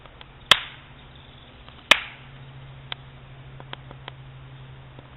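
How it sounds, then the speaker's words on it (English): Two sharp, loud slaps ring out about a second and a half apart, each with a short decaying tail, followed by a few faint ticks in an otherwise quiet outdoor setting. "I'm gonna try and slap."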